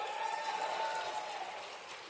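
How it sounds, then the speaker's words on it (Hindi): An outdoor political rally audience claps in a steady wash of applause, moderately loud and even for about two seconds, with a faint tone running under it. "जरा ताली वाली बजा के बताओ।"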